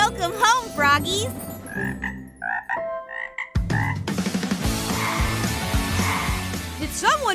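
Cartoon-like frog croaks ring out in bouncy bursts over lively music and sound effects, with animated voices chattering throughout.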